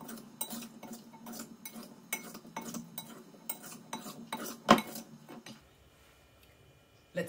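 A spoon scrapes and stirs a chopped tomato and garlic bruschetta mixture in a bowl, making rhythmic rasping strokes with one sharper clink near the end before it falls quiet.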